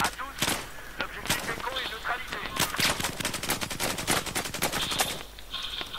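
Rapid bursts of gunfire in Battlefield 4 on a China Rising map with wooden shanties, sharp repeated shots in quick clusters, close and loud, while a person talks in French.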